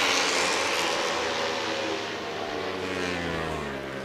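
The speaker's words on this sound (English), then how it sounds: "A little bit different sound when the Yamaha lets off the throttle going into the corners." Flat track racing motorcycles at the Springfield Mile roar loudly and continuously, engine pitch sliding down as a Yamaha rider backs off the throttle entering a corner, a dense mechanical drone with no voices.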